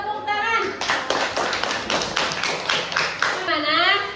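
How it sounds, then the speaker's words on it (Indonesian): A small group of schoolchildren clap their hands together in a quick, uneven run of claps lasting several seconds, close and fairly loud, with a few young voices mixed in. "Tepuk tangan."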